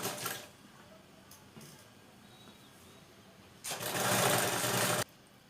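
A sewing machine runs basting stitches on a blouse, brief mechanical chattering bursts at the start and a longer loud run near the end, separated by quiet pauses.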